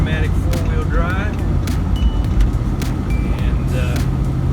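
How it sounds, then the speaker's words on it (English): A truck running in automatic four-wheel drive on a snowy road, a steady loud engine and road rumble heard from inside the cab. "So I got the truck in automatic four-wheel drive,"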